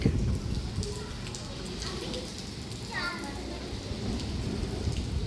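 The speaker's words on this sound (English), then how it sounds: "It's raining really heavily." Steady heavy rain pours down, a dense continuous hiss with a few faint distant background sounds; no voice stands out.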